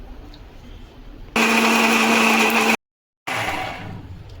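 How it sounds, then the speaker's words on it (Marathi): A kitchen mixer grinder whirs loudly as it grinds fresh coconut, chilli and coriander into paste: one strong run, a sudden brief stop, then a second run that gradually eases. "तर हे वाटण आता आपण मिक्सरला लावून घेऊया।"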